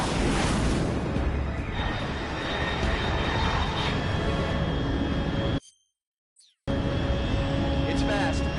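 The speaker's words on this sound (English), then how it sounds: "Unidentified aircraft detected." Jet aircraft roar in Metal Gear Solid Delta: Snake Eater, a loud broad steady rush that cuts out to brief silence and then returns, with a radio voice speaking over it.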